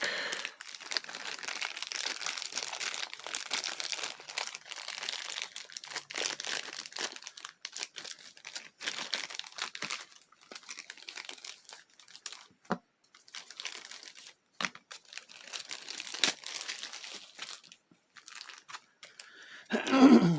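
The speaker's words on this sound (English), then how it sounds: "Let's go ahead and open up seal on that deck." Plastic wrap on a card deck from a board game starter set crinkles and tears close by, with continuous crackling and rustling throughout and a louder bump at the end.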